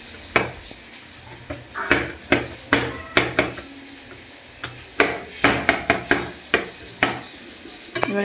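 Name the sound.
knife scoring sliced chicken on a cutting board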